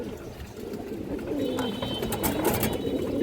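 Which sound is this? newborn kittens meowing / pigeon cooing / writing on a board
pigeon cooing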